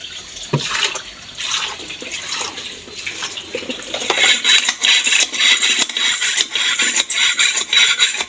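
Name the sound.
water poured from a dipper onto refrigerator parts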